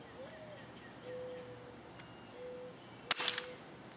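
A KWC CO2 airsoft M&P 40 pistol fires a single sharp, loud crack with a brief gassy hiss trailing after it, set against a quiet room with faint thin electronic tones beforehand.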